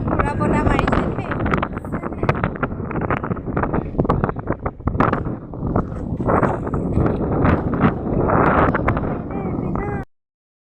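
Strong wind buffets the microphone over open fields beside choppy water, a loud continuous rumble with people talking beneath it until it cuts off abruptly.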